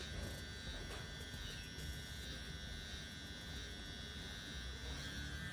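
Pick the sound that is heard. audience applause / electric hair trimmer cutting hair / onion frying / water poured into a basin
electric hair trimmer cutting hair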